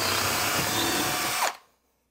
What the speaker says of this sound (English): just take your drill and go right in the middle of that dot